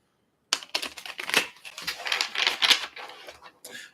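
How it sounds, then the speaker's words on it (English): A deck of tarot cards is shuffled in a quick burst of dense flicking and riffling clicks that starts abruptly, runs for about three seconds, then trails into a final short flutter, close and clear with no talking. "I'm gonna give this a nice number of shuffles."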